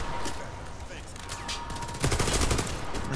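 Rapid gunfire in a video game set in Pripyat, a dense fusillade of overlapping shots that builds louder in the last second, with brief voices underneath.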